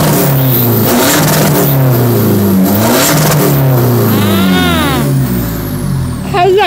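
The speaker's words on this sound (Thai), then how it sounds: "ฟังเสียงกันนิดนึงนะคะสำหรับนิสสันบิ๊กเอ็มคันนี้นะคะ" A Nissan Big M 1.9 diesel pickup engine revs loud and close, its harmonic drone rising and falling through several throttle blips with a brief high whine near the end, no one speaking.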